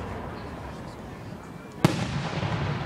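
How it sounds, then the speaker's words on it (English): Canada Day fireworks over Woodstock, Ontario: a single sharp firework bang cracks out nearby, followed by a crackling, rumbling tail, while people chat in the background before and after. "Oh, fireworks."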